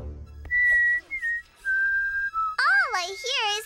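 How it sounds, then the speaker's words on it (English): A cartoon Sasquatch character whistles a short, clear melody of sustained notes, close and prominent, followed by a rising, warbling whistle phrase. "All I hear is Sasquatch whistling."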